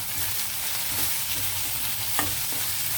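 Green chillies, curry leaves and coriander stirred into chicken curry frying in a pan, a steady close sizzle with scraping stir strokes and a sharp clink of the spoon against the pan.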